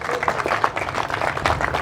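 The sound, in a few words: crowd applause at a political convention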